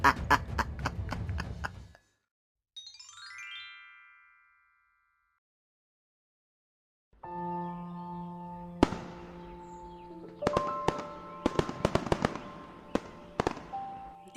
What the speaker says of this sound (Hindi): लोग दीप जलाकर पटाखे फोड़कर उत्सव मना रहे थे